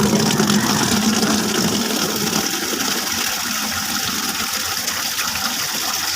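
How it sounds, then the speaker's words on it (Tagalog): Tap water gushing into a bucket to mix a soap spray: a loud, steady, continuous pour with no pauses and no talking. "Lagyan natin tubig."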